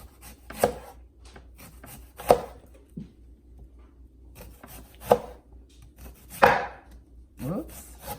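A knife slices sweet onion thinly on a cutting board, making about seven sharp, separate chops spaced irregularly, close up with quiet pauses between them.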